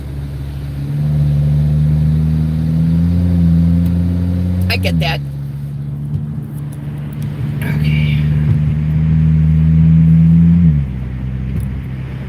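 Car traffic on the road in cold weather, heard as a steady close rumble of engines with a slight rise and dip in pitch, while a person speaks briefly over the noise.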